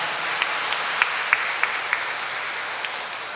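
A church wedding congregation gives the newlyweds a round of applause, a soft, steady wash of clapping with a few sharper individual claps standing out near the front.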